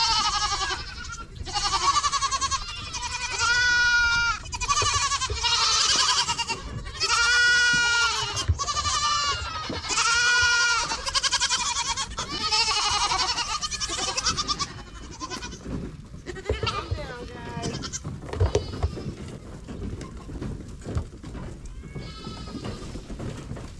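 Bottle-fed baby dairy goats bleat loudly and insistently at close range, many overlapping calls in rapid succession for the first fifteen seconds, then thinning to scattered cries over barn noise.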